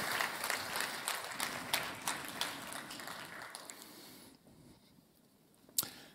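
Applause for award winners at a manufacturing conference session in Vienna, a moderate round of clapping from the audience that thins out and fades after about four seconds, followed by near quiet and a single sharp knock.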